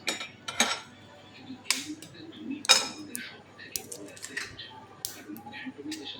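Egg is whisked in a bowl with irregular bursts of metallic clinking and scraping, some sharp and close, others lighter, with a voice faintly present at times.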